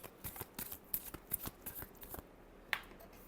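Tarot cards being shuffled by hand give a quick series of crisp, soft riffling taps close by, followed by a single sharper snap of the deck, with no talking.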